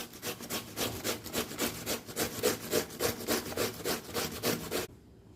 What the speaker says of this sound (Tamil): சொரக்காய் வந்து நல்லா துருவி எடுத்தாச்சு.